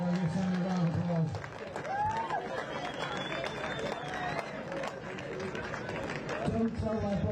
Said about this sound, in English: give Sammy a round of applause